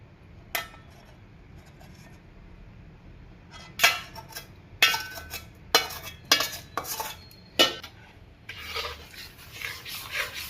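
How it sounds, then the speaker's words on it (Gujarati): A spoon scrapes and stirs hot ghee through roasted flour for mohanthal in a pan. It makes sharp rasping strokes in quick irregular bursts, growing busier toward the end, with no talking. "સાહણી ગરમ હોય એટલે ફટાફટ આવી રીતે મિક્સ કરવા માંડવાનું."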